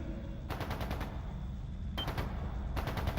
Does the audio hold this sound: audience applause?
no